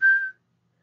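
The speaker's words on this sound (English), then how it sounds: "He whistled a tune to the window" A short, clear, single-pitched whistle from a person sounds alone, holding steady for about a third of a second before cutting off into silence.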